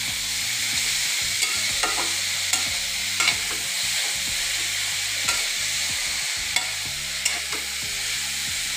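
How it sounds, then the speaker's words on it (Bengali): Grated carrot frying in ghee for gajar halwa, a bright continuous sizzle broken by repeated close scraping strokes and light spoon taps against the pan, with no talking. "ঘিয়ের সাথে গাজরটা নাড়াচাড়া করে খুব সুন্দরভাবে নাড়াচাড়া করে ভেজে নেব একটু হালকা"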